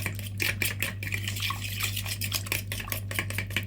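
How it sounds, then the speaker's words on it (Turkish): Liquid baklava dough ingredients with a pinch of salt and a packet of baking soda are stirred in a bowl, producing rapid rhythmic sloshing and clinking of a utensil against the bowl, close and steady under a constant low hum. "1 çimdik tuz, 1 paket karbonat ile güzelce sıvı haline getirdiğimiz malzemeleri karıştırıyoruz"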